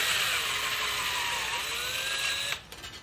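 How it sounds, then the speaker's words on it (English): A Dremel rotary tool with a cutoff wheel cuts aluminum sheet, giving a steady high whine with a shifting pitch that stops abruptly near the end. "Using my Dremel with a cutoff wheel, very carefully cut out the piece."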